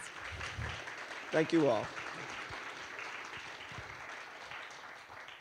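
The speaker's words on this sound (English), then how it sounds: "Can we get a round of applause" An audience at a convention Q&A gives fairly faint, steady applause for a visiting magazine publisher, with a brief spoken thank-you near the start rising above the clapping.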